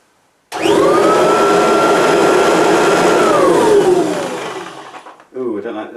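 A Kirby upright vacuum cleaner switches on with a loud, steady whine that holds for a few seconds, then winds down as the motor slows, followed by a short burst of speech.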